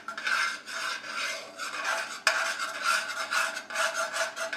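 A spoon stirring a butter and flour roux in a pot, rhythmic rasping scrapes in steady strokes, close and fairly quiet, with one sharp knock against the pot partway through.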